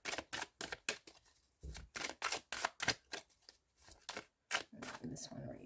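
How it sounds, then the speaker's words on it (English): A deck of cards is shuffled and split at close range: a rapid series of crisp riffling bursts with brief gaps between them, sharp and papery, in an otherwise quiet room. "Good shuffle."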